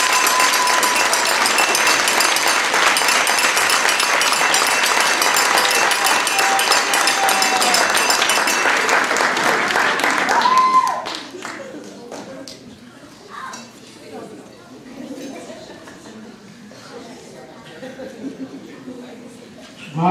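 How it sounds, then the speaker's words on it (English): Dense audience applause and clapping fill a school board of education meeting, loud and steady for about ten seconds before dying away into quieter room noise and scattered sounds. "Lots of clapping."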